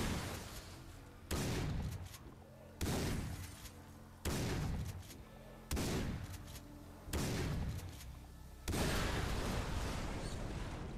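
Repeated heavy gunfire bursts in Far Cry 3 hammer a car until it is destroyed, six loud booming volleys at steady intervals, the last one long and sustained.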